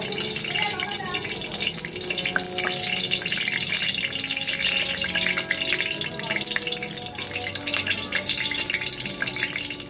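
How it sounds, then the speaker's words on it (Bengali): Dried red chillies frying in mustard oil in a pan, a constant close crackle and fizzing sizzle with scattered sharp pops, steady throughout with no talk over it. "শুকনো লঙ্কা দিয়ে দিয়েছি শুকনো লঙ্কাটা আমি ভেজে নেব"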